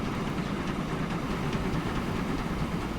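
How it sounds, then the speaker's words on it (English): A coal train runs in the Transport Fever 2 video game, a steady rumbling roll of wagons with faint rhythmic clatter, loud and continuous with no voices. "But now I'm concerned that this train is clearly not big enough, which is worrying."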